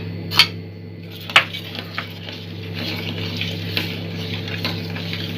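A spoon stirs sugar into milk in a pan while making rabri for bread malai rolls. Two sharp clinks of metal against the pan come early, then softer scraping and light ticks sound over a low steady hum.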